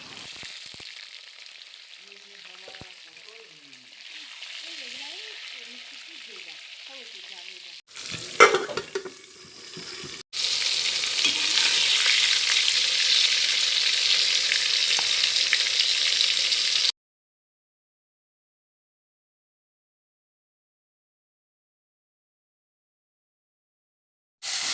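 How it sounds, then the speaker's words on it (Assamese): Peeled pointed gourd (potol) frying in a pan gives a steady close sizzle, broken by a brief clatter of stirring, then a louder, denser sizzle before the sound cuts to silence; no one speaks. "এতিয়া মই বাকলি গুচাই থোৱা পটল কেইটা ভাজি লৈছো অলপ"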